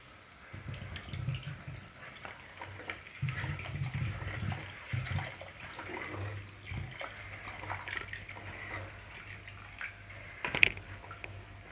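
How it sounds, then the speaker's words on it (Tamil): Water splashes and gurgles into a pot of Kerala-style fish curry made with tamarind water, an uneven pouring burble that comes in several bursts at close range. "இந்த குழம்புக்கு தேவையான அளவு தண்ணி சேர்த்துப்போம்."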